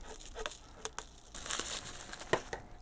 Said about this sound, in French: Et on va déballer ce fameux bed.